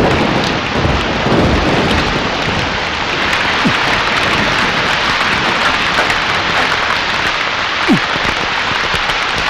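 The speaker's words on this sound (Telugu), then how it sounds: "వర్షం వచ్చేటట్టుంది" Steady, loud rain pours down throughout with a dense hiss, while a couple of brief low thunder rumbles break through near the middle and end of a Telugu film scene.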